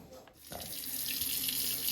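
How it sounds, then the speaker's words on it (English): Hot water runs from a tap into a foam cannon bottle, a continuous splashing pour that starts after a brief knock and then holds steady and close, with no talking over it. "we're gonna add our hot water"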